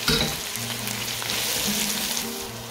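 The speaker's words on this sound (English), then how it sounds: "I'm going to put the onion in now." Onion dropped into olive oil with golden garlic, a loud close sizzle and crackle with stirring scrapes, steady throughout.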